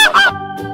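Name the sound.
goose honking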